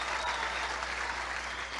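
Steady applause from an audience at a public speech about a housing event in Benito Juárez, Quintana Roo, heard as a brief, even wash of clapping at moderate distance without pause.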